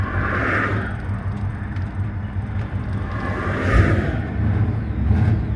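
A lifted truck on 35-inch all-terrain tires pulls away from a stop in second gear, giving a steady, close, low engine rumble that swells around the middle and again near the end, with no talking.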